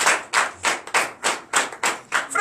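A church congregation claps in a steady, rhythmic beat of about three claps per second during a French-language deliverance and prophecy night service. The clapping sounds full and close, with no talking over it.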